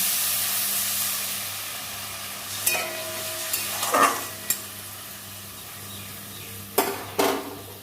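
Salted star fruit chutney cooks in a pan with water, a steady steamy hiss and bubbling simmer that fades slightly, broken by a few scattered spoon clinks and scrapes against the pot, close up, without voices.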